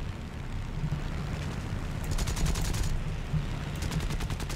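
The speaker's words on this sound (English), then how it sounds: "Using machine guns." Aircraft machine guns firing in the War Thunder video game, in short rapid bursts over a constant engine drone, with the bursts repeating a few times in quick succession and moderately loud.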